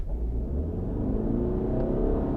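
A Ford Escape Titanium plug-in hybrid pulls away hard as its petrol engine cuts in, giving a steady low rumble that climbs gradually in pitch and stays loud and close throughout.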